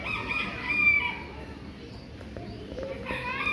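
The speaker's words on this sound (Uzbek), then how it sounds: "Bu yerda xo'rozlar." Several roosters crow at a poultry enclosure, drawn-out calls swelling at the start and again near the end over a steady murmur of birds and background voices.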